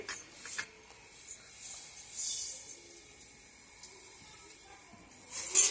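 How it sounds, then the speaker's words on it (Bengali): Black sesame seeds being dry-roasted in a pan give a soft, dry rustling and scraping as they shift, with brief brighter rasps near the start and end. The sound is faint and no one speaks. "চলো সবাই প্রথমে তিলগুলা ভেজে নেই।"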